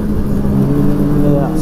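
Engine of a 2005 Polaris Fusion 900 snowmobile revving up and accelerating in cold winter air, a steady loud mid-pitched motor drone close by, with a voice talking over it.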